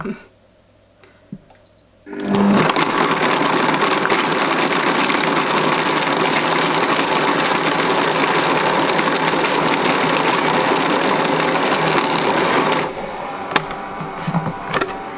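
An electric mixer blending pastry ingredients for puff pastry, a loud steady whirring drone running for about ten seconds close by, then cutting off, with quiet clatter before and after.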